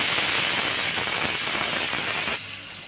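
Onion dropped into hot oil with cumin in a pan for a hotel-style pulao, giving a loud, steady hiss and spray-like sizzle that drops abruptly in level near the end.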